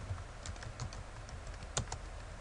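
Quiet keystrokes on a computer keyboard, scattered irregular clicks with one sharper tap, close and alone over a faint steady background hum.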